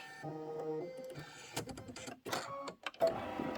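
An embroidery machine stitches a quilt block with batting and background fabric, giving a quiet, steady mechanical whirr and ticking close by, with some handling noises.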